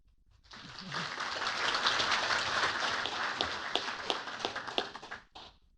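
Sustained applause from a council meeting audience follows a public presentation, a dense patter of hand claps that swells, holds steady for several seconds, then thins into a few scattered final claps.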